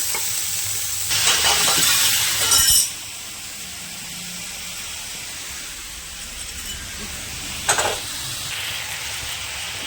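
A spice paste with chilli powder in a pan bursts into a loud sizzle and steamy hiss as water is added, followed by a steady softer frying hiss with a second brief flare later on.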